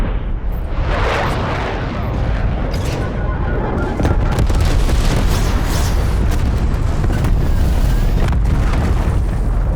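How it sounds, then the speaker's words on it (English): Napalm strike explosions in the video game Black Ops Cold War erupt as dense, roaring booms that merge into a continuous loud blast and crackle, sustained throughout with no pause. "Deploy napalm strike."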